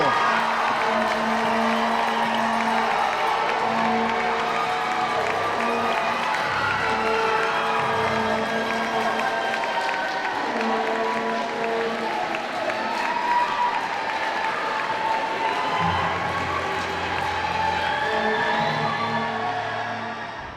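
An audience applauds and cheers for Academic Decathlon teams at a county Super Quiz, sustained dense clapping with scattered whoops and shouts filling the hall for about twenty seconds before tapering at the end.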